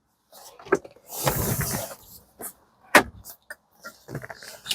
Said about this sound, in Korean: 회전 모드로 한번 진행을 해보겠습니다 돌려주세요